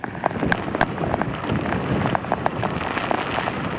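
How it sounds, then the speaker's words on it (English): Heavy wind-driven rain from Hurricane Sally pelts surfaces outdoors, a steady dense hiss with scattered sharp drop impacts throughout, loud and continuous with no voices. "the wind drives that rain in there"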